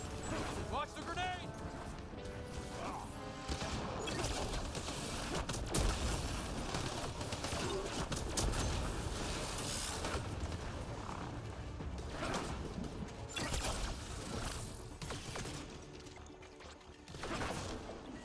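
Gunfire and explosions from the video game Mass Effect Andromeda on Insanity difficulty come in dense bursts throughout, with sharp shots and heavy blasts mixed with game noise and voices.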